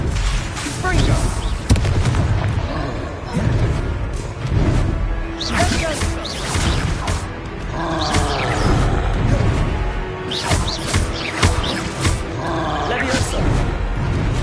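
Spell blasts from the Confringo curse in the video game Hogwarts Legacy burst out repeatedly as booming, fiery impacts in a busy combat mix, with voices and other spell effects layered throughout.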